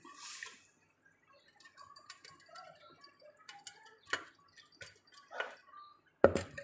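Chettinad kara chutney comes to a light boil in a kadai, giving faint, sparse pops and ticks at irregular intervals, with a sharper bubble burst near the end in an otherwise quiet kitchen.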